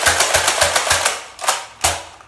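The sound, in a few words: Nerf Tri-Strike pump-action blaster slam firing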